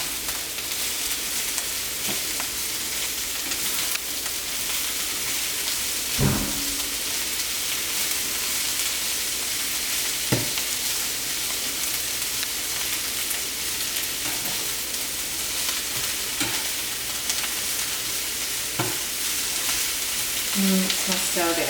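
A steady, hissing sizzle of spring roll filling vegetables cooking down in a pan, with occasional soft scrapes and clicks of stirring over the constant frying.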